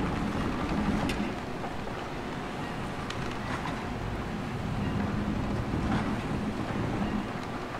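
Sailing boat gliding over the sea in The Witcher 3, a steady wash of wind and lapping waves with occasional splashes, continuous and fairly loud with no voices.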